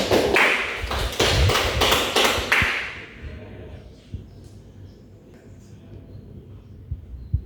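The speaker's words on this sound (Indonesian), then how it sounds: "Beri aplaus kepada jawaban ini." Classroom applause: a short burst of clapping close by for about three seconds, then it fades into a quiet room with faint taps.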